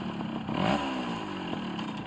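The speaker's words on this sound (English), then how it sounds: "Plenty of revs, plenty of revs." A rebuilt Yamaha FS1E moped's small two-stroke engine revs up close, its buzzing note climbing sharply then settling into a high, raspy drone.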